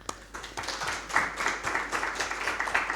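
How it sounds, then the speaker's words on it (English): Audience applause at the close of a maritime knowledge lecture, steady dense clapping throughout at moderate loudness with no talk over it. "big round of applause for them"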